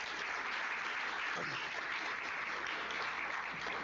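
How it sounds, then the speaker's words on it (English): A crowd at an MLK Day celebration keeps applauding, an even, continuous roar of clapping at steady volume from start to finish with no talking over it. "One more round of applause for Dexter Seven."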